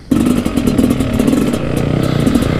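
Kawasaki KX250 and Sherco two-stroke dirt bikes start off together, a loud, close, continuous engine drone with steady buzzing throughout.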